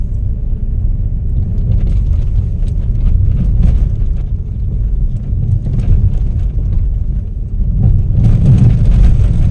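A vehicle without shock absorbers rattles and thumps over bumps on the way to the beaches of Isla de la Piedra in Mazatlán, Mexico, as a loud, continuous low rumble with scattered knocks that grows harsher near the end.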